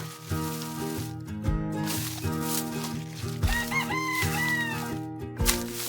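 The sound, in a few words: rooster crowing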